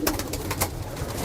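Pure Kamagar teddy pigeons give soft, low coos in their loft, faint and repeated over a constant murmur of background noise, with no one speaking.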